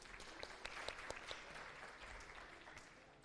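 Classroom applause for a classmate during a calculus lecture, steady clapping from a group of students lasting the whole stretch at moderate level, alone with no talk.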